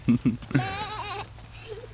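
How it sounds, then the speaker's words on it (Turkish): A goat bleats loudly up close at a zoo in Germany, a few short wavering cries followed by a longer quavering bleat that fades out. "böyle keçi, Keçiler var"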